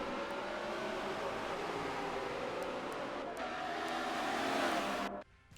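Simulated NASCAR stock cars racing side by side on the banking of the Indianapolis GP circuit in a video game, a steady dense engine roar throughout that cuts off sharply near the end.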